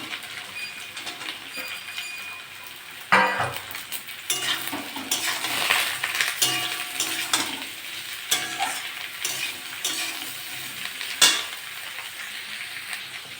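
Potatoes and brinjals sizzle as they fry in a pan, with a steady close crackle broken by sharp scraping stirs, two especially loud ones, and no voices.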